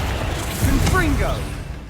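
Confringo fire spells blast in Hogwarts Legacy, a dense, loud roar of fiery bursts and crackles that runs without a break, with a shouting voice mixed in over the chaos.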